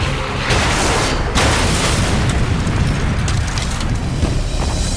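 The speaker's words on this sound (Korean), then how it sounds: "요격당한 포켓블프는 땅바닥에 부딪혀 폭발했다." A shot-down Focke-Wulf 190 fighter crashing into the ground and exploding, a loud sustained roar of blast and debris with sharp bursts at the start, close and dense throughout.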